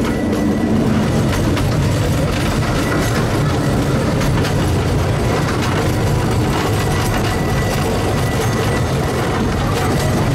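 A park train runs through the Prater in Vienna, its wheels rattling in a steady, loud clickety-clack that goes on without a break and drowns out everything else.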